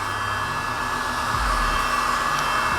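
A hot air blower directs gentle warmth onto the metal bodywork of an Audi TT mk1 project car, a loud steady whirring hiss with a deepening low rumble partway through, no talking.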